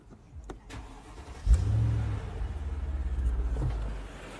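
A 5-litre Mercedes SUV engine converted to run on LPG cranks briefly, catches with a rev and settles into a slightly uneven, pulsing idle, heard close up with no talking.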